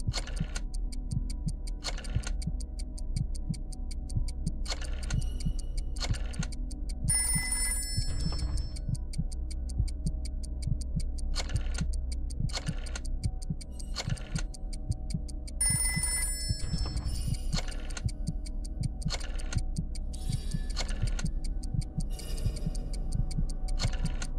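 Rotary telephone ringing in the Trivia Murder Party 2 video game. Short bursts of bright bell ringing repeat at intervals over a steady ticking clock rhythm and game music; no talking.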